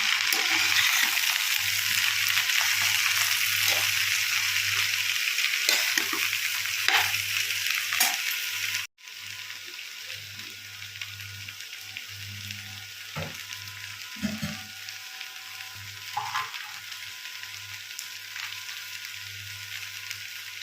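Watery snake gourd cooks in a frying pan, a steady loud sizzle with repeated scraping stirs, briefly cut, then a lighter hiss with occasional utensil knocks over a low hum.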